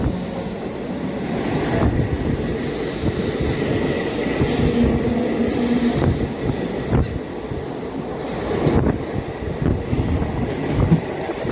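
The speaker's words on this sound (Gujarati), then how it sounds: "આપણી ગાડી બી ફાઇનલી ઉપડી ગઈ" A train pulls away and runs along the rails with a steady rumbling roll, occasional clacks and faint wheel squeals, heard from on board and continuous throughout.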